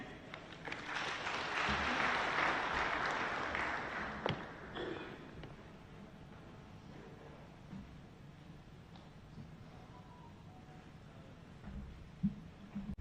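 Applause at an African Union reflection forum, swelling and lasting about four seconds before fading into quiet room tone with a few scattered taps and small movement noises.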